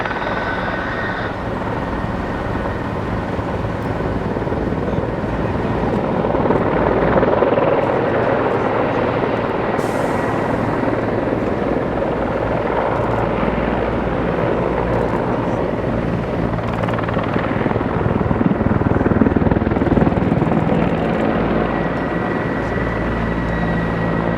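An attack helicopter's rotor and engine drone steadily throughout at an air show at IWM Duxford, loud and sustained, with a broad rumbling wash and no voices.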